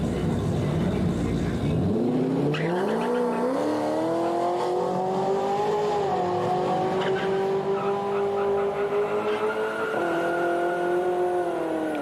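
A Ford with a 6R80 transmission and wide 305/45R17 rear tires launches in second gear and revs hard through a sustained, rising engine wail with tire squeal, then lets off and brakes near the end.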